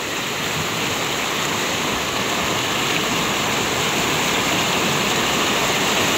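A creek rushes steadily over stones, a loud, unbroken wash of flowing water close by with no voices.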